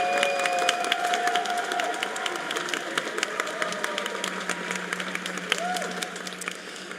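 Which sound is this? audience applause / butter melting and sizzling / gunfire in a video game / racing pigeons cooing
audience applause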